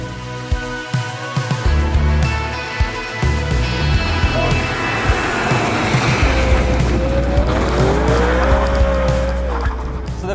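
Modified BMW E92 M3 Competition driven hard on a favourite road, its engine roaring loud and steady while the tires squeal in long wavering screeches through the corners.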